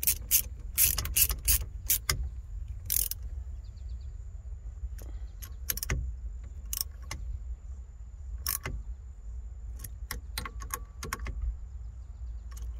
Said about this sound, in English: Now we're just going to crank these guys down.